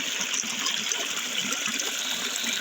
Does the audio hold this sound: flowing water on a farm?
yes